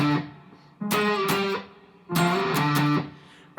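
An electric guitar plays octaves through distortion, two thick sustained chords, each struck and held for under a second, with a quiet pause between them.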